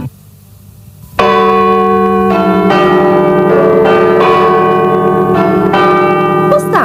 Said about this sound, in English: It's Bradford City Hall chimes